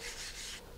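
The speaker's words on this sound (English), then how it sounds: "I'll just put it on the sandpaper and just do it in a circular motion." A wooden rocket fin rubbed in circular motion on sandpaper, a soft steady rasping scrape that runs for under a second, close and quiet with no voices.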